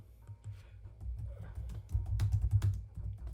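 Quiet tapping on a computer keyboard as a search is typed in, a quick irregular run of soft keystrokes that grows slightly busier toward the end, with no voices.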